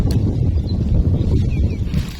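Strong wind roars and buffets the microphone in a continuous low rumble, with a faint whistle now and then.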